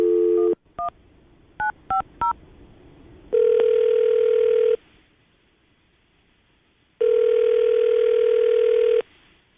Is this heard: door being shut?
no